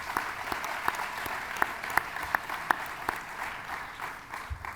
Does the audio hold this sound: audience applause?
yes